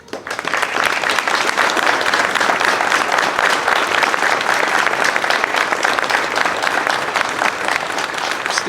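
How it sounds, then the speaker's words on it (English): A crowd at a 2021 Memorial Day ceremony in Gloversville claps steadily for active duty service members, a dense, sustained round of applause at close range with no break. "Please, one more round of applause for our active duty folks."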